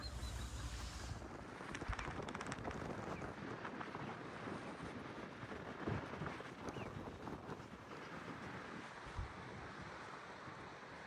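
Strong wind at a beach in Hunstanton buffets the microphone with a constant roar and rumble for the whole stretch, with gusts swelling and easing and no voice over it.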